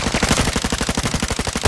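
Rapid automatic gunfire in a shooter video game, a fast, loud, close burst of evenly spaced shots lasting under two seconds, with no talking.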